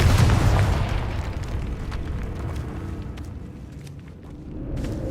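A Confringo fire spell explodes in Hogwarts Legacy, a loud booming blast at the start that rumbles and decays over several seconds, with a smaller burst near the end.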